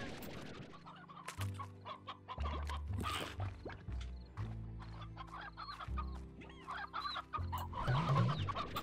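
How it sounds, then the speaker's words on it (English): Briar hens from the Slime Rancher video game cluck repeatedly in short, close bursts, with scattered chirps and game music tones playing underneath. "Oh, these are briar hens."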